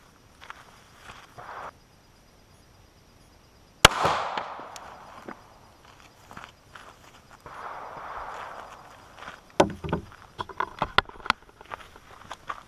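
A single sharp crack of a .45 ACP +P round firing a 250-grain flat-nosed bullet into stacked wooden 2x4s, followed by softer rustling, knocks and a scattered run of small clicks and clatter.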